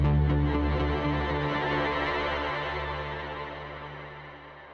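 A thick, sustained effected tone from an Eventide CrushStation pedal lingers after the note, a droning shimmer with layered harmonics that slowly fades away.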